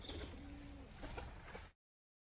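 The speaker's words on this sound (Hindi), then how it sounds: "कबूतर" Soft pigeon cooing, a low murmuring call repeated under a steady background hum, fairly close and moderately loud, with no talking.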